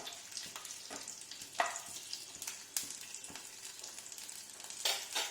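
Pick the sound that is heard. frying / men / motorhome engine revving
frying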